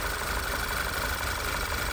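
A VW TSI 2.0 engine with a PCV fault idles rough, a steady close mechanical drone with a faint uneven knock running under it, with no talk.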